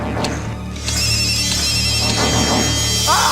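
A telephone ringtone in a movie scene trills in repeated electronic bursts over a low background hum, loud and close, with a brief chirp near the end.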